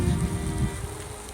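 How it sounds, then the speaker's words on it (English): Rain falling in damp woods, a steady close patter of drops on surfaces, continuous and fairly loud with no voices. "So it's raining right now."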